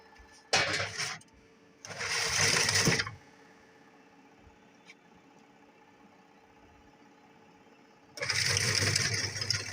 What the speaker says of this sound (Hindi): वॉशिंग मशीन ऑन हो गई है, टाइमर चल पड़ा है